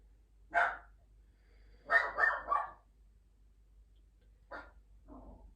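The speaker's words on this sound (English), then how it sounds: "Ignoring my dog barking in the background." A dog barks in short bursts indoors: a single bark, a quick run of three, then two more spaced out, moderately close and alone against a quiet low hum.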